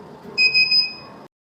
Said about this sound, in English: When we hear the buzzer sound 3 times, it means that the Transbot system has been successfully started.